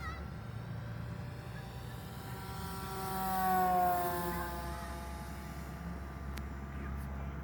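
A Horizon Hobby Timber 1.5 RC airplane on floats flies over water, its small motor droning steadily and rising to a louder whine as it passes overhead midway before fading back.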